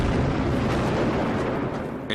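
A granite-removing explosive blast at Mount Rushmore, set along drilled lines: a loud, sustained rumbling roar that fills the whole span with dense broadband energy and fades only slightly near the end.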